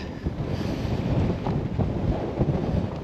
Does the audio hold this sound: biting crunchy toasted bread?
no